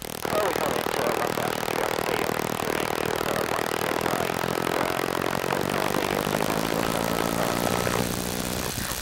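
Steady droning engine and propeller of a 1930s Tiger Moth biplane in flight, loud and constant throughout with wind noise, while a voice talks over it.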